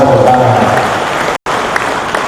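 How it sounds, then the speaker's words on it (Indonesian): An audience at a book review and anniversary gathering in a large mosque applauds in a steady, dense wash of clapping that carries on without pause, apart from a brief cut to silence. "Tepuk tangan."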